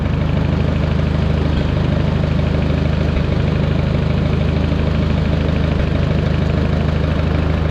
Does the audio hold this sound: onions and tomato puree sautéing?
no